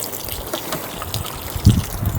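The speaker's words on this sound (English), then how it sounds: "There it goes. Spewing out nice soapy water." Soapy water gushes out of a drain hole with a close, steady trickle and splash, broken by a few heavier gurgling bursts.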